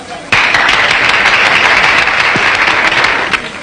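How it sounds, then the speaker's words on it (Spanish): A theatre audience breaks into sudden, loud, sustained applause to welcome a singer, the dense clapping starting abruptly and holding steady, with a voice talking over it. "Vamos a darle un aplauso más fuerte para que nos cante."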